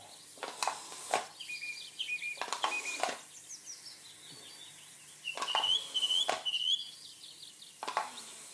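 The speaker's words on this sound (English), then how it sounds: "You gotta love how they just did the Thomas Bird sound effects," Cartoonish bird chirps and tweets from a Thomas the Tank Engine style video game set at Drayton Manor, copying the season 1 sound effects, come in repeated bursts of rising whistles with short sharp clicks in between.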